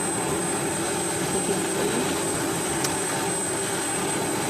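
An F-16 fighter jet engine runs at an air force anniversary show, a steady broadband roar that holds loud and constant throughout, with no talk over it.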